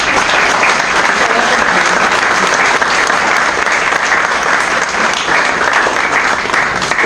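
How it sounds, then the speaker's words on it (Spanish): An audience at a university expo presentation claps steadily and loudly in continuous applause that holds at the same level throughout. "Un fuerte aplauso, por favor"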